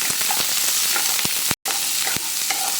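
Onions and green chillies sauté in a pan for an egg gravy, giving a close, steady sizzle broken by the repeated scrape of stirring and one brief cut-out.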